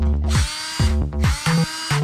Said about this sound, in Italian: sta usando un trapano